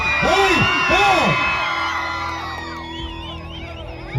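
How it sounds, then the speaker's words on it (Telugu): A large crowd roars and whoops loudly together, rising and falling in waves over a dense, continuous din. "మీరు గట్టిగా అరుపులు, కేకలు, చప్పట్లు, ఈగలు అన్ని కలిపి ఒకేసారి"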